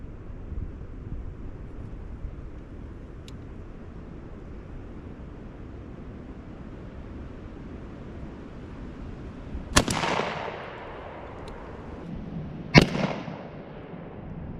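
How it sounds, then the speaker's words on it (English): A Stevens 301 .410 single-shot shotgun loaded with Viper ammo fires two sharp, loud outdoor shots about three seconds apart, each with a short echoing tail, over steady wind noise. "I'm going to show you what this little gun will do."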